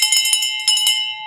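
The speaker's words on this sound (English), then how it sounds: "Let's ring a bell for that one." A handheld bell rung to celebrate a deal, a loud close run of rapid clanging strikes with bright ringing overtones that sustain and fade at the end.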